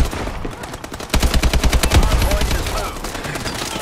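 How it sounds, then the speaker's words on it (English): Rapid automatic gunfire from the video game Call of Duty Advanced Warfare, a loud rattling burst that rises after a second and continues over a dense mix of game noise. "Someone's shooting me."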